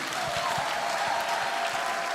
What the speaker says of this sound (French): Applaudis le Seigneur.